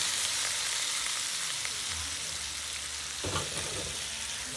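Pork fries and sizzles in a pot for sinigang, a steady hiss of hot fat with a brief louder burst of crackling near the end, close and continuous.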